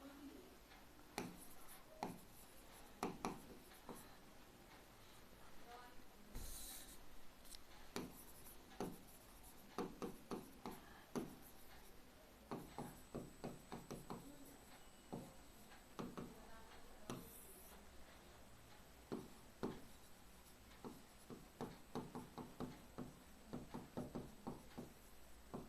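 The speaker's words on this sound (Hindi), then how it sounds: "मैं लिख देता हूं।" Pen writing by hand on paper: quiet, irregular scratchy strokes and light taps in short bursts, close by, with faint background noise.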